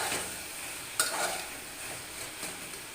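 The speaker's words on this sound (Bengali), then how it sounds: "আরেকটু নেড়ে চেড়ে নেব।" Papaya, potato and soybean curry with turmeric is stirred in a pan over steady frying sizzle, with one sharp scrape of the spoon near the start and softer stirring scrapes after, close and moderately quiet.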